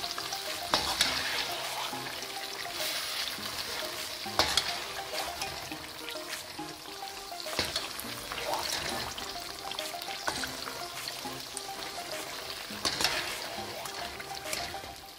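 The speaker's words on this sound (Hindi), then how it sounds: "इसको अच्छे से चम्मच चला के मिक्स करें" Semolina roasting in a pan while a spoon stirs it, a faint continuous dry hiss with scraping strokes and occasional spoon taps against the metal.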